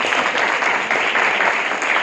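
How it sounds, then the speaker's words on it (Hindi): Congregation clapping at a Friday church service after a testimony, a brief burst of dense, loud applause from many hands filling the hall. "जोरदार तालियां।"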